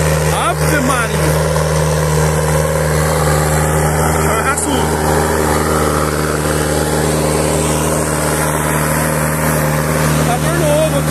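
A new New Holland T6 110 tractor engine runs steadily and loudly throughout, a continuous close drone with people talking over it.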